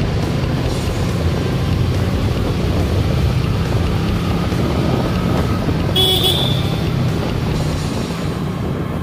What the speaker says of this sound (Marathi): फालतूमध्ये ट्रॅक अडकवून ठेवलेलं सगळं ट्रॅफिक.